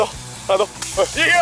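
Raw beef sizzles in a stainless steel washbasin over a fire at an outdoor campsite, a steady crackling hiss running under lively, excited voices.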